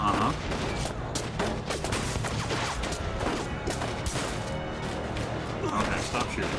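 Gunfire breaks out in the video game 1979 Revolution: Black Friday, with dense bursts of shots and crashing impacts across the whole stretch, loud and busy, with voices heard in the mix.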